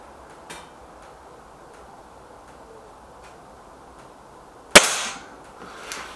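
A single sharp air rifle shot from a Gamo Whisper X or Hatsan 900X, a loud close crack with a brief decaying tail, over faint quiet ticking background.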